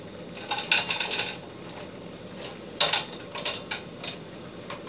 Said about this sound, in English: just get the pan a little shake like this